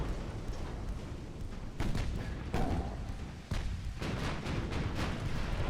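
Salvos from the 12-inch guns of a König-class battleship in the naval game Ultimate Admiral Dreadnoughts, heavy booms and rumbling blasts recurring over several seconds against a dense, loud background of battle noise.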